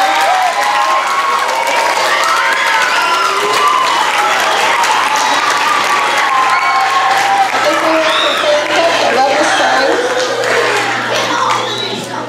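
A school audience claps and cheers for elementary students at a geography bee, with loud, sustained applause and scattered whoops and children's voices throughout.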